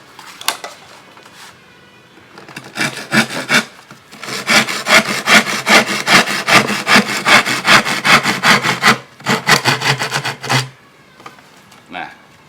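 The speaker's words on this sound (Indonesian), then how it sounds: "Selanjutnya dipotong menggunakan gergaji potong." A hand saw cuts through wood for a lamp, its rapid back-and-forth rasping strokes loud and close, starting in short bursts and then running in a long steady rhythm before stopping near the end.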